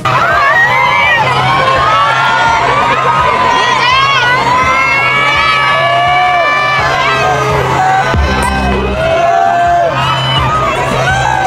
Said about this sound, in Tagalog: marinig mo na dumadagongdong ang hiyawan